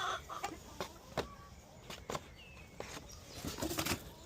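Chickens in a coop during egg collection cluck and flap their wings nearby, with scattered short bursts of rustling and a few soft clucks throughout.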